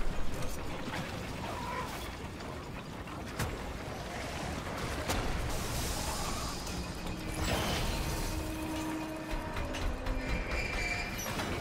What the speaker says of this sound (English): let's reload real quick